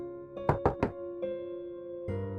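Three quick, firm knocks rap on a toilet door, close and distinct, then a pause and a fainter follow-up tap over a steady low hum.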